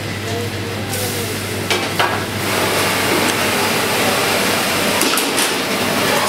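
Chopped crayfish stirred into a frying onion, mushroom and prawn mixture in a pan, giving a steady close sizzle with a few brief scraping and clattering stirs.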